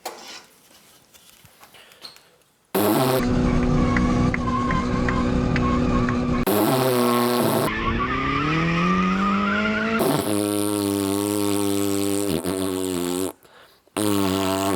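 Nissan SR20 engine played back in loud bursts, revving with pitch climbing and falling in several segments separated by short silent gaps, no talk over it.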